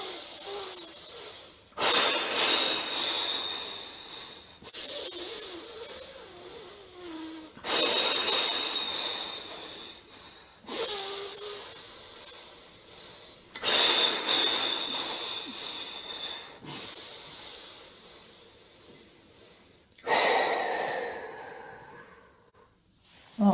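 Slow, deep breaths drawn in and let out during a calming breathing exercise, loud and close, each long hissing inhale or exhale separated by brief pauses, repeating about seven times with no talk.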